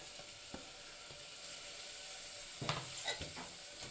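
Carrot, green chilli, onion and tomato fry in oil in a pan, a quiet, steady sizzle broken by a few faint scrapes and clicks from stirring.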